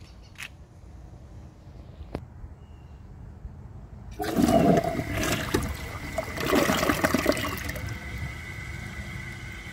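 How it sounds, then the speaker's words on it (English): A 1.28-gallon Delta Corrente toilet fitted with a ProFlow Calhoun tank flushes after a couple of faint clicks. A loud rushing surge of water is followed by draining and trickling as the tank refills. "So let's give this a flush and see how it does on tests."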